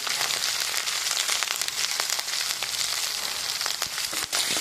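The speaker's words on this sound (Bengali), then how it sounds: "এই মশলাটাকে একটু কষিয়ে নেব" Spice paste with chili powder sautéing in a pan, a loud dense sizzle with constant crackle and small pops, close and continuous.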